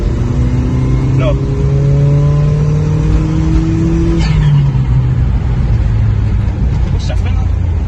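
A Volkswagen Golf 2 with a 20VT engine pulls hard along a road, its loud engine note climbing steadily through the gears, with people talking inside the car over the drone.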